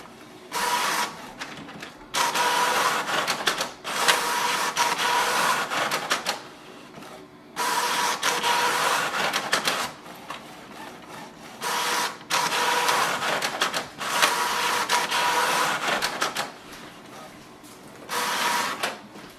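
A Canon Maxify GX6000 inkjet printer running print head alignment whirs and clatters in repeated bursts as the print head shuttles back and forth, with short pauses between passes.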